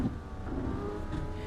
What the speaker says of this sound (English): We're driving a Lamborghini Aventador.